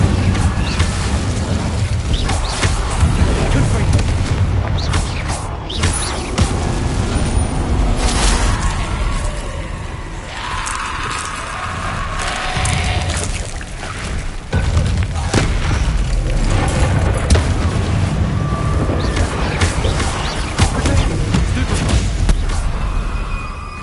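Repeated fiery booms and whooshing blasts from Incendio spells cast in Hogwarts Legacy roll on continuously and loudly, with a voice occasionally heard among them.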